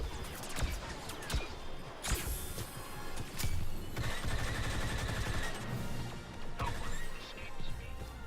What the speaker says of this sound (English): I'm gonna throw a couple more explosive rounds down there